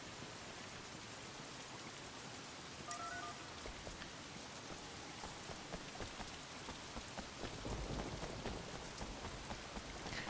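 Steady, dense rain and distant thunder fill a rainy city scene in the video game Sleeping Dogs Definitive Edition, with a constant hiss of drops and a faint rumble swelling later on.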